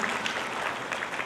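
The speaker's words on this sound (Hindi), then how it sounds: "जोरदार तालियों से उनका अभिनंदन स्वागत करेंगे" An audience at a Shrimad Bhagavat Katha religious gathering at a Bhavani temple applauds, a brief burst of steady, dense clapping.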